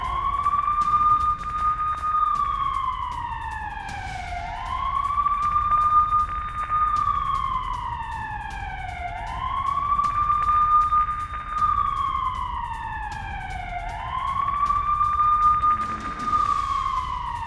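A wailing siren rises and falls in long, smooth sweeps, repeating about four times at a steady pace, loud and continuous, with no other sound above it.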